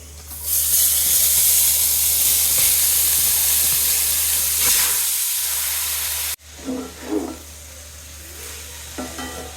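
Carrots dropped into a hot pan of oil where almonds were just fried, giving a loud, steady sizzle and hiss with stirring that cuts off abruptly, followed by quieter scraping and spoon clatter.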